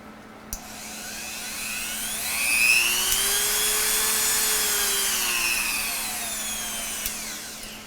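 Tacklife RTD35ACL multi-functional rotary tool running on its own, a steady high-pitched motor whine that rises slightly in speed and then holds, fairly quiet and close.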